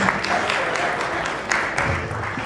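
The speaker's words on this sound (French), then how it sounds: "Vous pouvez l'applaudir." Audience applause during a 2001 Manosque film event, a steady wash of many hands clapping at moderate loudness with a few sharper claps standing out, and no voices over it.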